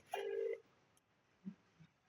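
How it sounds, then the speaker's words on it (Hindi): A phone calling a boys' hostel warden in Gairatganj gives one short, bright electronic ring burst, followed by near quiet and a couple of faint low bumps. "अभी आपके सामने हम लगा रहे हैं तो देखो घंटी बज रही"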